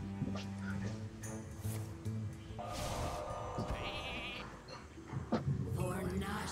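Sheep bleats ring out in the card game Hearthstone, a few short wavering cries mixed with game effects and chimes, with someone speaking briefly amid the sounds.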